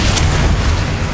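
A Bombarda explosion spell in Hogwarts Legacy, a loud rumbling blast filling the whole moment with heavy low-end roar and noisy wash, close and sustained without a clear onset.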